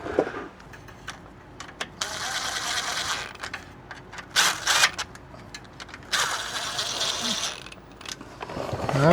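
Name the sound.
bolts run in with a tool on a 6R80 transmission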